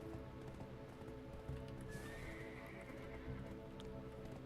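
A horse in the Black Desert Online video game whinnies once over soft hoof clip-clops and a low, steady game ambience, faint and without talk.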